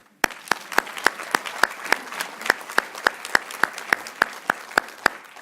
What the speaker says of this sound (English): I want to give another big round of applause to our essay winners.